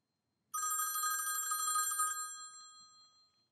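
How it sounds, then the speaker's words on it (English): A rotary telephone's bell driven by a Raspberry Pi through a transistor circuit gives one rapid, rattling ring lasting about a second and a half, loud and close, then rings out and fades in a short decay. "When I run this program, the phone rings."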